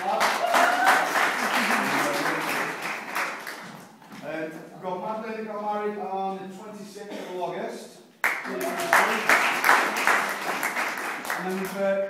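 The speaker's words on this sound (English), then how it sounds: "Give it a clap." An audience at a bridal boot camp event in Wigan bursts into a dense round of clapping, which fades as someone speaks, then swells again sharply and keeps going.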